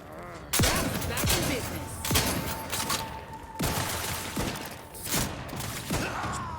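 Repeated sharp gunshots in The Outer Worlds video game, bursts of loud near shots spaced irregularly over a steady background, with talk mixed in.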